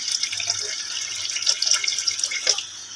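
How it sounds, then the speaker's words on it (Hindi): Water poured into a pot for aloo matar pulao, a steady splashing stream of running water with small bright drips and splatters, close and moderately loud. "अब जाएगा इसमें पानी।"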